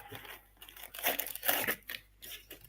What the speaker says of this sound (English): I really struggle to open these packs